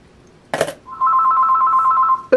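A telephone rings in a home craft studio during a weaving session: one sustained, steady electronic ring, clear and fairly close, preceded by a brief clatter and followed by a short knock.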